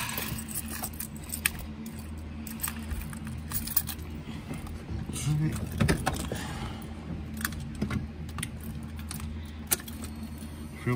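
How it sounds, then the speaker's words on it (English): Car keys jangle and clink near the microphone in several short rattling bursts, with a low steady hum in the background and no speech. "let me get my keys"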